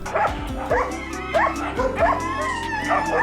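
Foreign-breed dogs at a farm barking in short repeated bow-wow yelps with some whimpering, close and fairly loud, several barks in quick succession.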